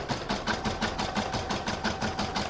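An embroidery machine stitches a round of an in-the-hoop crazy patch bag, tacking both fabric pieces down with a steady, rapid mechanical rhythm of needle strokes running continuously at close range.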